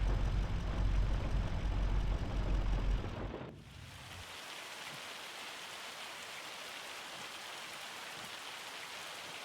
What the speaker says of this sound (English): You can see the hail bouncing off the ground.